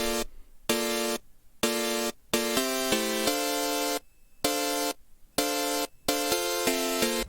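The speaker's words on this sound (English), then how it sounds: "saw with some white noise and with a lot of high end" A saw-wave one-shot in FL Studio Mobile layered with white noise and bright high end plays as a series of short and longer chord stabs separated by gaps, buzzy and bright, alone without talk.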